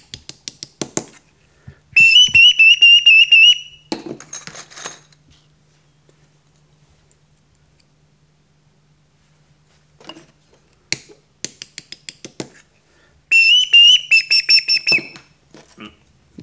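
Whistles are blown one after another while being tested in a whistle-making workshop: short chirps and taps alternate with two sustained, trilling whistle blasts, loud and close, separated by a quiet gap.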